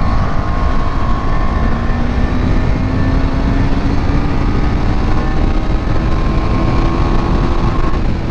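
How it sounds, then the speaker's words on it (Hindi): A KTM Duke 390 motorcycle engine drones steadily while riding, its rising whine mixed with heavy wind buffeting on the microphone, loud and continuous throughout. "चलाते हैं थोड़ा इस बाइक को"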